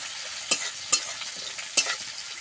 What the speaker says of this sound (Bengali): রসুন বাটা দিয়ে দিচ্ছি। এরপরে এটাকে ভেজে নিতে হবে ফ্রেন্ডস।